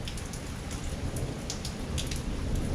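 Rain pelts down steadily during a severe wind storm, with a dense hiss of drops and scattered sharper patters over a low rumbling undertone of thunder, close and fairly loud throughout.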